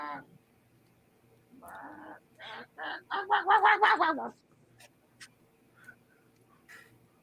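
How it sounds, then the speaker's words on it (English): A chicken crossing a road in Mexico clucks in a run of quick, raspy bursts that build to a loud close flurry, then trail off into quiet background noise. "Chicken crossing the road."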